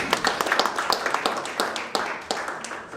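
Audience applause at a National Assembly symposium for a tree-planting campaign: dense, steady clapping from a seated crowd, with crisp individual claps popping out over the continuous patter throughout.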